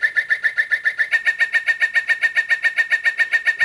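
A singing bird clock playing a digital bird song, a loud, close electronic chirping trill repeating in a fast, even pulse for several seconds with a thin, synthetic tone.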